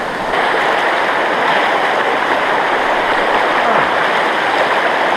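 Deep stream on a forest trail rushing steadily at a crossing, loud, continuous broadband flow close by with no talking.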